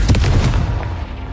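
A Confringo spell blast in the game Hogwarts Legacy, a single loud, close boom with a heavy low thump that quickly decays into a rumbling tail.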